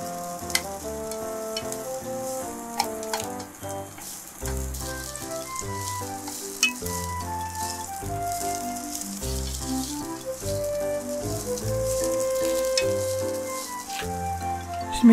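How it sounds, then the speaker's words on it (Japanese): Onions and garlic frying in hot oil for a Thai-style coconut milk chicken drumstick stew, a steady sizzle under louder music that runs throughout. "熱くなったら玉ねぎを炒めます。"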